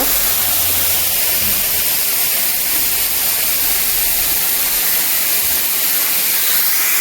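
Water pouring steadily at Shilbandha waterfall in Bandarban, a loud, continuous broadband rush that stays constant throughout with no talk over it.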